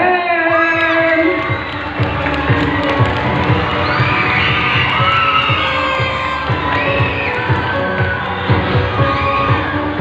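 Classmates cheer, shout and whoop for a candidate at a school pageant's top-five announcement, a loud, dense crowd roar with children's yells and scattered bangs sustained throughout.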